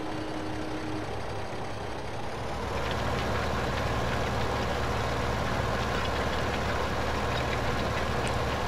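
A tractor engine labours steadily while cultivating uphill in Farming Simulator 15, a constant low diesel drone that rises slightly in level partway through and then holds.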